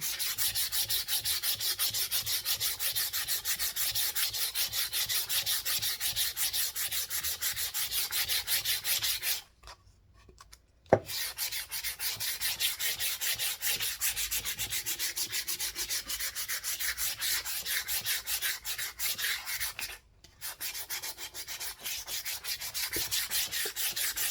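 Sandpaper rubs steadily over painted wood to distress it for a patina finish, a close, continuous scratchy scrubbing broken by two short pauses, with no voices.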